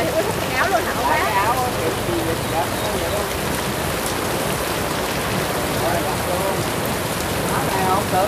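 Heavy rain pours onto a flooded street in a steady, dense hiss that spatters on nearby surfaces, with voices talking underneath.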